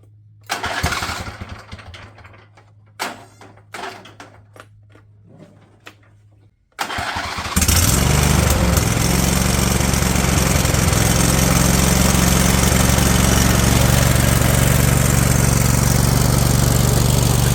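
A Husqvarna engine in doubtful condition is cranked, with a few sharp pull strokes and brief sputters, then catches at about seven seconds and runs on at a loud, steady roar for the rest of the clip.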